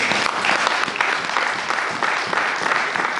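A church congregation claps together in a dense, steady burst of applause that fills the room, loud and continuous for a few seconds with no voice on top.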